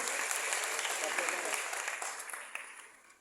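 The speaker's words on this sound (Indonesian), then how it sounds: "tepuk tangan buat teman-teman kita dari Papua Tengah." Audience applause at a youth forum, greeting participants from Central Papua, a dense burst of clapping that gradually thins and fades over a few seconds.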